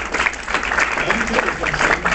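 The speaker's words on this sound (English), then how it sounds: "So a big round of applause for the San Francisco Federation." Dense crowd applause for the San Francisco Federation, a steady wash of clapping with scattered voices mixed in, sustained throughout.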